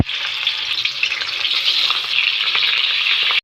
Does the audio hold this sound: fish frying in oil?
yes